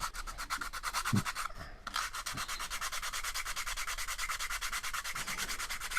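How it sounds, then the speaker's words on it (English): Resin on a model Routemaster bus being rubbed down with abrasive: steady, fast back-and-forth scratchy strokes, close and continuous, with a brief pause partway through. "you just rub that down until you start to see the original plastic bits underneath"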